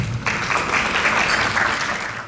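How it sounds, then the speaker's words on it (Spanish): An audience at a dermatology congress breaks into warm applause to welcome a speaker; after a brief quiet start, a broad, even wash of many hands clapping swells and holds, easing slightly toward the end. "Démosles la bienvenida al doctor Edgar Ollagüe con un caluroso aplauso."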